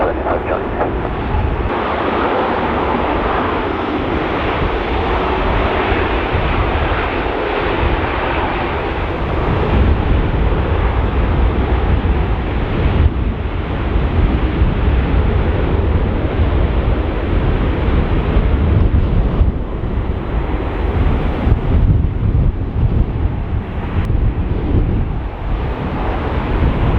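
Strong, gusting wind roars across Dublin Airport from 200 degrees at 18 knots with gusts to 33, a dense, loud rush that swells and eases over the whole stretch.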